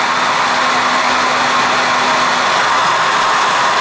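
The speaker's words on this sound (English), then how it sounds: "Hair dryer still warming up." A warming-up hair dryer gives a steady, loud broadband blowing whoosh without pause, with a faint low hum fading partway through.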